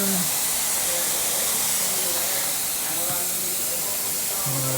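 Water extraction machine running during an emergency water cleanup, a steady loud broadband hiss and rush that fills the whole stretch without a break, close by.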